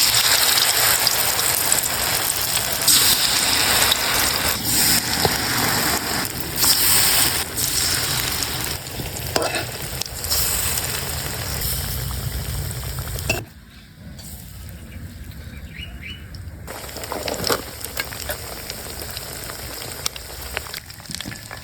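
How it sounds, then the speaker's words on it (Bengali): Flour-dipped eggs fry in hot oil, a loud, steady sizzle and bubbling that runs unbroken, dips briefly and then returns at full strength. "ময়দার মধ্যে চুবিয়ে এখন গরম তেলে ভেজে নেব।"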